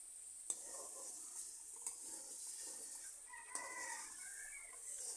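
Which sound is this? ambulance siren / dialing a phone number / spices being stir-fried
spices being stir-fried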